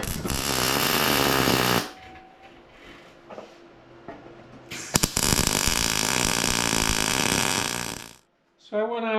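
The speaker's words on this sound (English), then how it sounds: "cut a piece of steel with the cutting disc" A cutting disc slices through a piece of steel in a metal shop, giving two long, loud, harsh grinding bursts separated by quieter clatter and handling noise.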